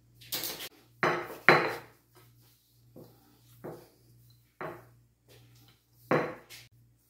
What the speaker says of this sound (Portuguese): agora nós vamos dividir a massa em 4 partes iguais